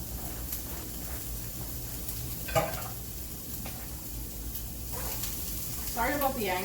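Sofrito of onions, peppers and garlic frying in a home kitchen pan, a steady soft sizzle with a few scraping stirs and utensil clicks, close and moderately quiet.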